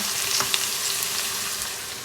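Sliced onions fry for beresta in hot oil, giving an even, close sizzle with faint stirring ticks.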